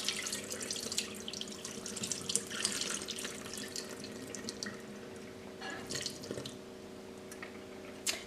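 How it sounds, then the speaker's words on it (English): Water drains from a bowl of soaking pollock fillets, running and trickling quietly into a sink with scattered drips and splashes, fairly close and continuous, with no talking. "After soaking the pollock fillets for 1 hour in the refrigerator, let's drain the water."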